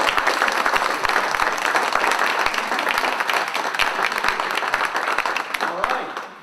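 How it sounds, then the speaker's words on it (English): An audience at a Bitcoin boot camp seminar in Philadelphia claps steadily for several seconds, a dense, loud round of applause that fades slightly at the end. "I want to give her a round of applause."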